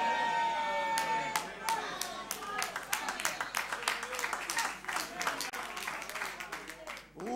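A church congregation claps in scattered, uneven bursts, a moderately distant patter of hands that swells and thins, while someone speaks over the applause.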